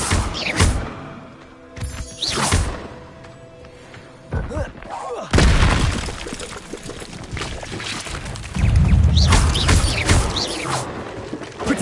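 The Incendio fire spell is cast repeatedly in Hogwarts Legacy on PS5. Several loud, close whooshing bursts and thuds come in separate waves amid combat noise.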